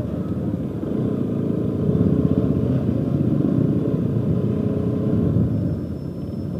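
A motorcycle rolls along in a Kashmir traffic jam on the way to Kokernag, its engine a steady, close rumble that holds without pause. No one speaks.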